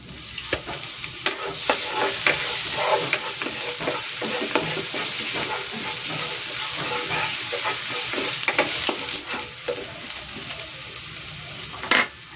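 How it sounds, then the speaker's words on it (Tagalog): Garlic sautés in hot cooking oil with a dense, continuous sizzle and crackle, and brief stirring scrapes break through now and then over about twelve seconds, close and steady. "Igigisa ko na tong bawang."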